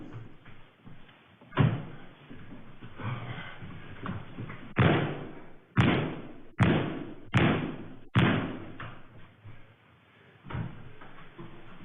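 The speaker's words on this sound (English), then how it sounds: "That man kicked that door so many times and could not get it open." A door is kicked repeatedly, heavy thuds landing one after another at uneven intervals, each a loud impact with a short rattling decay over a muffled, low-quality background.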